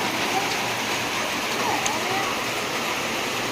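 Hail and rain fall steadily outdoors, a constant dense hiss of drops with no pauses throughout.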